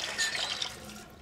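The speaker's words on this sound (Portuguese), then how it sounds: "Agora bota a Gillette na água quente." A razor dipped under hot running tap water, a brief close splashing and trickling of water over the blade, moderately loud for about a second before fading.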